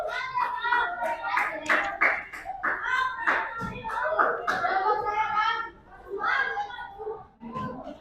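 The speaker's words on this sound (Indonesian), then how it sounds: "Beri tepuk tangan." Fifth-grade pupils clapping in a math classroom, quick hand claps mixed in with children's chatter and voices throughout.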